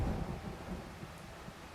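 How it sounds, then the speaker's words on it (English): Thunderstorm in a visual novel video game: a low rumbling roll of thunder with steady rain noise, loud at the start and easing into a sustained, fairly close rumble. "A thunderstorm, lightning flashing"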